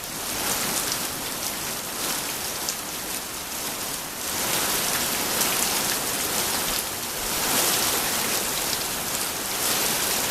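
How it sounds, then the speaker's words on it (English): Steady rain falls outdoors, a dense, continuous hiss of drops on surfaces that swells slightly in places, loud and close throughout with no voices over it. "I'm worried that we're going to end up just hearing this rain."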